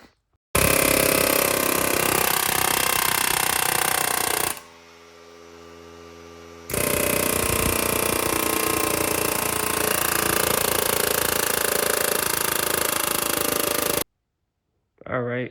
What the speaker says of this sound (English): So now I gotta try to air hammer right here into the shaft